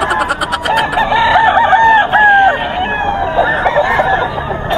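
A gamecock stag crows loudly and close at a Bocaue rooster market, with other fowl clucking and a murmur of crowd noise behind.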